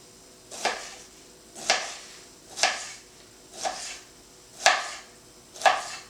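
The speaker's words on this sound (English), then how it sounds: "And I'm just going to chop it." A knife chops through pineapple on a cutting board in six evenly spaced, crisp thuds about one second apart, close and clear with a quiet room behind and no talking.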